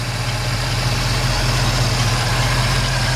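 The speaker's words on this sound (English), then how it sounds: "The engine runs great." A 1967 Pontiac Firebird V8 with new cylinder heads and an Edelbrock intake and carburetor idles loudly and evenly up close, a steady low rumble throughout with no voices.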